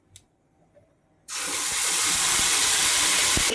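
Nigella seeds dropped into hot oil in a pan: after a second of near silence, a sudden loud, bright sizzle that holds steady to the end.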